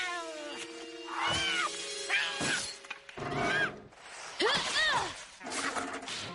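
A cartoon cat in the Hindi-dubbed Kid vs. Kat series yowls and caterwauls in long, wavering, repeated cries, loud and close, with brief gaps between howls.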